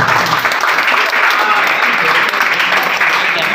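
Continuous crowd clapping at a home meeting, many hands at a steady loud level, with a faint murmur of voices mixed into the applause.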